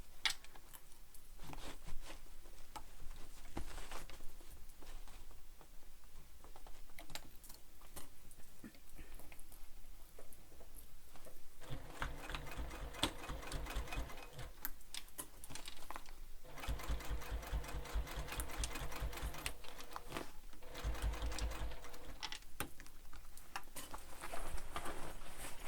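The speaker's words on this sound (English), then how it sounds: "we're going to sew this all the way around" A sewing machine stitches continuously all the way around a backpack, its rapid needle rattle and motor drone steady and close throughout with brief pauses and small bumps as the fabric is turned.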